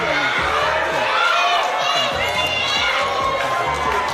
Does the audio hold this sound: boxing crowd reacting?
yes